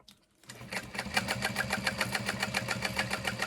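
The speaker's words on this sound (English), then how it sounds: "I'm just gonna backstitch" Sewing machine backstitching on a backpack, starting after a brief pause and then running at a fast, even needle rhythm, close and steady.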